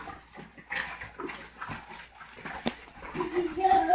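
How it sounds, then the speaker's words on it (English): Several male pit bulls living together whimper and whine in soft bursts close by, with a steadier whine rising toward the end amid other low household noise. "6 male pit bulls"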